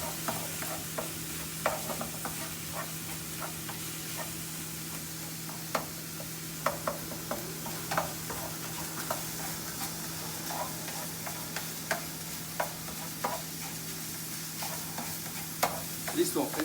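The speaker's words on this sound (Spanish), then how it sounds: "aquí esperamos unos 2 minutitos que nos cocinen un poco los tomates" Tomatoes cook in a pan, a soft continuous sizzle with a low steady hum beneath, broken by scattered light clicks and scrapes of a utensil stirring at close range.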